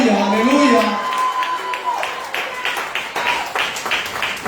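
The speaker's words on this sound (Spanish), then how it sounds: "Den un aplauso al Señor esta preciosa tarde." A church congregation breaks into applause at an evening service, scattered rhythmic clapping that builds after the end of a voice, with some raised voices and whoops mixed in.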